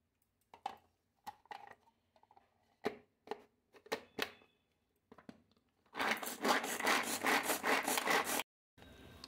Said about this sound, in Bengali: ওতে একটু পেঁয়াজ কুচিয়ে নেব।